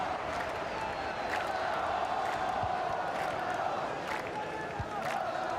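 At an EA Sports FC 24 esports tournament, a large crowd keeps up a steady, loud roar of cheering and noise, with voices speaking over it.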